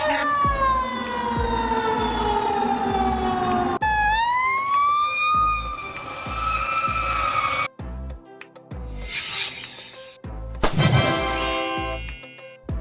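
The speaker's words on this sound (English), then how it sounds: "Fire Ladder Truck, a fire truck with an extendable ladder used to reach high floors in buildings." A fire ladder truck sounds its siren close and loud, a long wailing tone that sweeps down and up, then turns to rapid yelping bursts and a harsh air-horn-like blast, all alone with no voices.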